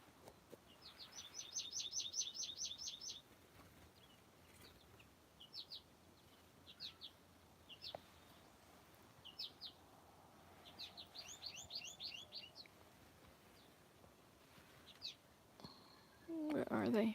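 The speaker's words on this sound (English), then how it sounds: "Here's one. Finches." Finches chirp outdoors in spring, short bright bursts of rapid twittering repeated every few seconds at moderate distance over a quiet background, with a louder rustle near the end.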